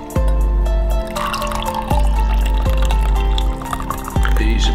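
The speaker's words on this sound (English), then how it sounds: "If you like it extra strong, you can pour it back through." Hot drink is poured back through a brewer to make it stronger, giving a steady, loud stream of liquid splashing and filling a cup, with several brief clinks and drips breaking into the continuous pour.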